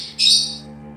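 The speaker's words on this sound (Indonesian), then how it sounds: "burungnya numpang beken." A single short bird chirp rings out briefly, clear and fairly close, over a quiet low background hum.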